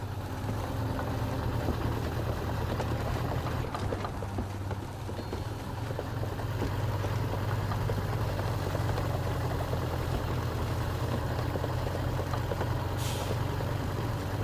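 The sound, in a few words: Zikz 566A truck engine running in a video game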